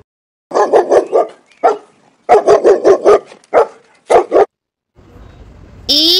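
A dog barks in several quick bursts of yips and woofs, loud and close with short pauses between groups, ending with a sudden high sliding electronic tone.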